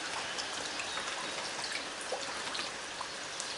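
Soft, continuous patter of water dripping and trickling, faint and steady with small irregular drops throughout.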